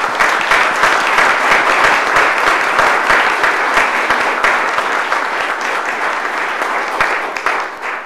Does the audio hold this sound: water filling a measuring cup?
no